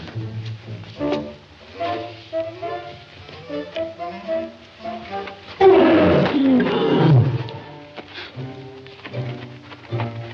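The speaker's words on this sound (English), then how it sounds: "Where's that lion at?" A lion lets out a loud roar in the middle, with quieter growls and animal sounds around it and a lighter tapping sound in the background.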